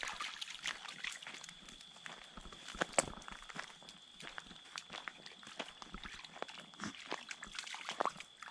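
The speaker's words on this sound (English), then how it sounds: "Oh, the doggy in the water." A dog moving through a shallow stream, splashing steps and sloshing water in irregular bursts, fairly close, with a faint steady whine in the background.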